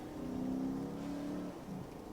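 A Lexus RC F rolling along in eco mode on a wet road in the rain up Little Cottonwood Canyon, its engine a steady, fairly loud drone heard from inside the cabin that eases off slightly near the end.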